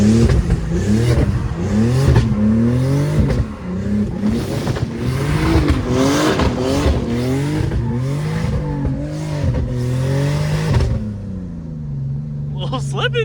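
BMW E46 with an eBay turbo kit and stock clutch revving repeatedly off the rev limiter in third gear, engine note surging and bouncing as the clutch slips, loud and close, then settling to idle.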